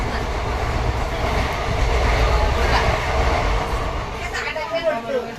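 Interior of a moving Madgaon–Nagpur Express train, with a loud, steady rumble and rattle of the carriage rolling along the tracks while people talk nearby.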